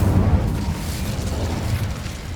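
An Incendio fire spell bursts in a wizarding action game with a deep, booming whoosh that starts strong and then settles into a steady low rumble, close and loud, with no voices.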